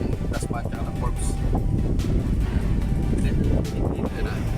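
Wind roars steadily across the microphone during a ride near Puerto Azul heading toward Bel Air Village, a constant loud rumbling buffet with engine-like low noise underneath and no clear talk.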